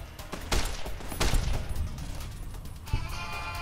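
Service rifle gunfire in Fallout New Vegas, a few sharp shots cracking out close with echoing tails, the loudest burst early on and another near the end.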